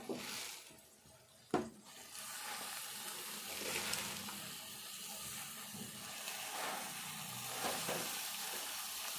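Fresh spinach sizzles and fries in a hot pan after being added, with a soft steady crackle, a sharp clink near the start and occasional stirring scrapes, no speech over it.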